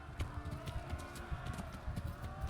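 A horse in Kingdom Come: Deliverance gallops with a steady, rhythmic clip-clop of hooves, heard up close and continuous over a low rumbling ground.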